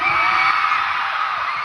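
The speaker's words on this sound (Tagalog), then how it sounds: "Grabe, parinig nga ng sigaw!" Large concert crowd at a kickoff soundcheck, day two, screaming and whooping continuously in a dense, loud, sustained roar with no pauses.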